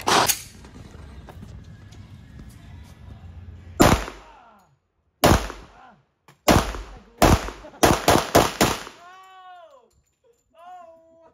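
Shotgun firing at an outdoor shooting range, about eight sharp loud blasts in an irregular sequence with short gaps of quiet between some shots, and brief voices toward the end.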